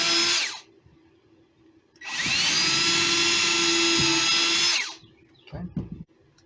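A power drill whirs in two bursts, a short one then a longer sustained run, driving screws into wood for a first woodworking project, with brief handling clatter after.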